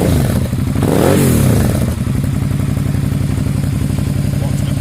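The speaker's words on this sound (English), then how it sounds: "Black Widow exhaust in, and this is with the baffle in." Suzuki V-Strom DL650 2007 motorcycle with a Black Widow exhaust, baffle fitted, blipped once to a loud revving swell and falling back to a steady, close, throbbing idle, heard alone.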